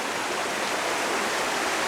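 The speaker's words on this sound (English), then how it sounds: "I hope you can hear me over the noise of this water here" A small waterfall spills into a river, making a steady, full rushing hiss of flowing water, close and continuous with no pauses.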